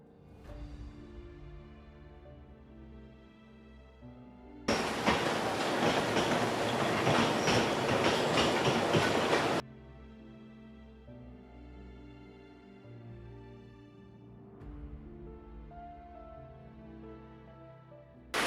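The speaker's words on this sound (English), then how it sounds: "we just saw it go across that little rail bridge is a steam train" A steam train crosses a small rail bridge in rural Wales, its rumbling clatter surging loudly for several seconds mid-scene before dropping away, heard near and alone with no voices.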